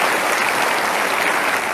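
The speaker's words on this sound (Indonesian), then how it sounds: "Boleh tepuk tangan untuk periode kedua." Steady crowd applause fills the whole moment, a dense, even wash of clapping from many hands with no voices over it.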